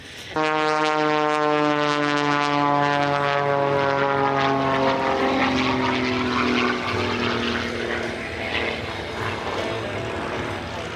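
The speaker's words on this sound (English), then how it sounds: "He's on the takeoff roll right now." A de Havilland Super Chipmunk propeller aircraft on its takeoff roll at the Oregon International Airshow in McMinnville: loud, steady propeller engine drone with strong harmonics rising in pitch, continuous for the full length and fading slightly toward the end.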